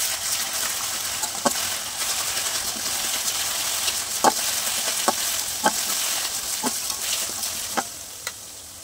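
Ginger and garlic paste fries in oil with a loud, steady sizzle up close, punctuated by regular clicks and scrapes of a spatula stirring against the pan.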